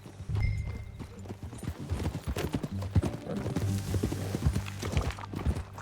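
Horse hooves clip-clop steadily on the ground in the Red Dead Redemption 2 video game, a continuous rhythmic trot with an occasional whinny amid game ambience.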